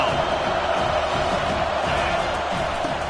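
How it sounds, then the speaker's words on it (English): A home crowd roars at a college football game as the defense faces third down, a steady, loud wall of cheering with no breaks and a commentator's voice mixed in. "Here comes his home crowd as the defense tries to get off the field on 3rd down."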